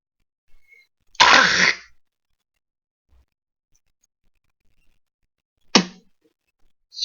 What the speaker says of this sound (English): And what you can do with a cough.